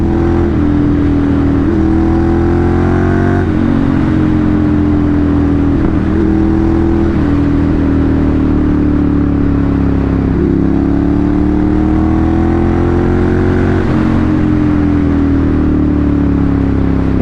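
A Ducati Monster 796 engine revs up in repeated rising pulls, dropping and climbing again, loud and close with a steady rumbling drone and no voices.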